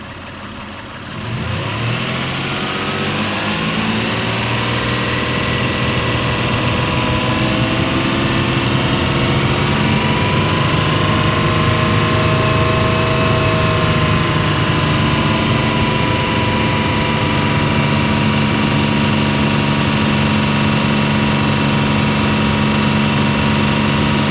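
A Toyota Tacoma 3.4 with a lean-running fault idles, then its engine is raised and held steadily around 3000 RPM. The engine makes a loud, close, sustained drone with no talking.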